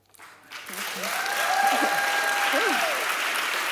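Applause swells from a sustainability celebration audience after a spoken poem, building quickly to a full, sustained clapping with a few voiced calls or whoops rising above it.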